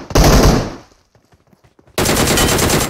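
Loud bursts of automatic gunfire in a shooter video game, one long burst, a pause with faint scattered sounds, then another sustained burst.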